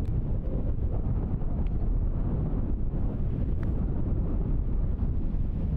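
Cold wind on a golf course buffets the microphone in a steady, loud, low roar that continues without a break, with no talk.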